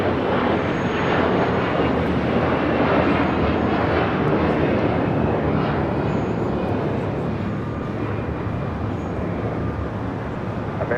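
Asiana Airbus A380 turning onto a taxiway at LAX, its engines giving a steady, loud whooshing rumble with a faint tonal whine, continuous and fairly near throughout.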